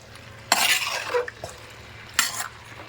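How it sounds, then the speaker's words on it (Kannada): Turmeric powder being stirred into chicken chilli as it fries, with two separate bursts of scraping and clinking from a spoon working through the pan, heard close up. "ಅರಶಿನ ಹುಡಿ ಹಾಕಿ ಚೆನ್ನಾಗಿ ಮಿಕ್ಸ್ ಮಾಡ್ಕೊಂಡಿದ್ದಾರೆ"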